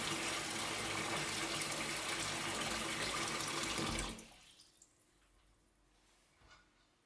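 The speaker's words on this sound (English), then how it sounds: "Drain the fruit and save the juice for later" Juice pouring steadily from jarred plums as the fruit is drained in a home kitchen, a continuous splashing liquid stream that stops abruptly partway through, leaving faint quiet handling sounds.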